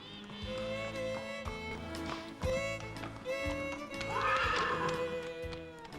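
Draft, riding and former laboratory horses at an animal refuge neigh and whinny repeatedly, loud and close, with a few hoof clops on hard ground between the calls.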